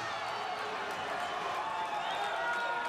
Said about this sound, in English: Crowd going nuts.